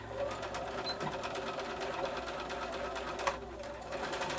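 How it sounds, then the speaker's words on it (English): A sewing machine runs in a steady fast whir while back stitching a side seam on a summer muumuu dress, close and moderately quiet, without pause. "I'm just going to back stitch at the beginning and the end of that side seam"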